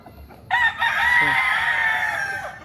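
A fighting rooster, a Sonny Lagon broodcock, crows once loudly and close, a drawn-out cock-a-doodle-doo lasting about two seconds over faint background murmur.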